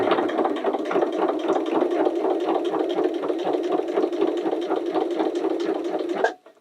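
A sewing machine with a special presser foot stitches slightly sticky plasticized fabric in a fast, even stream of close, loud needle strokes that stops abruptly at the end.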